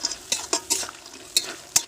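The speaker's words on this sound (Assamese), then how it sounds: "এতিয়া এইখিনি একদম ধুনীয়াকৈ লৰাই থাকিব লাগিব এনেদৰে" Fried khurma pieces stirred in sugar syrup in a pan, heard as half a dozen close, sharp scraping strokes at an uneven rhythm.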